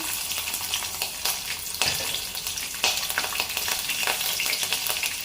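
Cut green chillies frying in a hot pan for an ivy gourd fry, a close, loud continuous sizzle with occasional stirring scrapes and crackles throughout.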